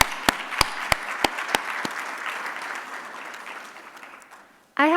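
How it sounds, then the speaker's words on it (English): Audience applause at a domestic violence awareness event, a few loud sharp claps at first, then dense steady clapping fading out before stopping abruptly. "So can we give you a round of applause?"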